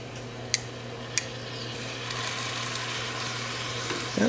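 Lamb chops sear in melted butter in a small pan, a soft sizzle that swells and grows steadier after a couple of sharp clicks, with a low steady hum underneath and no talking.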